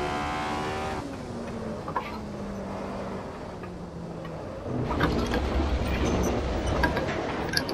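A race car in Assetto Corsa accelerating hard, its engine note climbing and shifting through gears, then a rougher burst of noise as it runs onto grass, loud and close with no talking.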